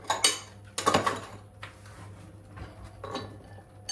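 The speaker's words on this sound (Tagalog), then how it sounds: "Haluin natin yung ating carrots." Carrots are stirred in a cooking pan, with a few sharp metallic scrapes and clinks of utensil against pan at irregular intervals, near and fairly loud, separated by quieter gaps.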